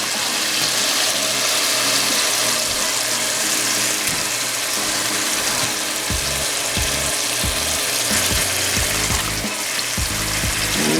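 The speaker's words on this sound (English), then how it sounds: "Turn her on high so we can get a nice sear right away" Marinated venison tenderloin searing in butter in a pan on high heat, a loud constant sizzle with crackling pops, close, with some talking faintly in the background.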